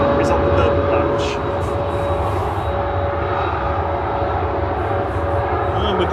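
A Swiss airliner taxis out at Manchester Airport, its engines giving a steady mid-distance rumble with a constant tonal whine and faint wind noise, and no talk is heard over it.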